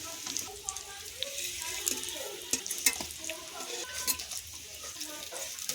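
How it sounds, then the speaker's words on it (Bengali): Cauliflower chops fry in a pan with a soft sizzle, broken by scraping and clinking of a utensil against the pan, heard close and moderately quiet. "এগুলো এভাবেই সব ভেজে নেব।"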